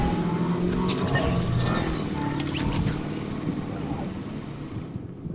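Truck spinning around in a video game pursuit, a continuous engine roar with skidding and tire-squeal textures that fades toward the end, no talk over it.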